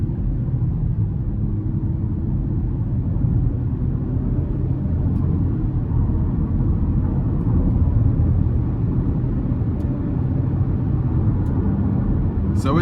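A 2024 GMC Terrain SLE with the 1.5-litre turbo engine and front-wheel drive pulls hard toward the limiter, heard from inside the cabin as a steady, loud low drone of engine and road noise.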